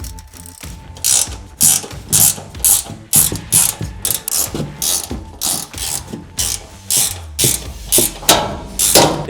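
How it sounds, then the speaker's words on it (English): A ratchet tightens bolts on a Weather Guard partition inside a RAM ProMaster City van, making loud, close bursts of rapid clicking in a regular back-and-forth rhythm with short pauses between strokes. "I'm just going to hand thread these and come back and tighten them."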